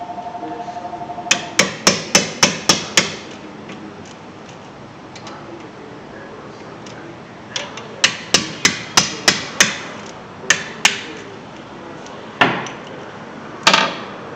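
A hammer striking metal during a brake job on a 2011 Hyundai Santa Fe: sharp, ringing blows in quick bursts of five to six, then scattered single hits, loud and close in a quiet garage.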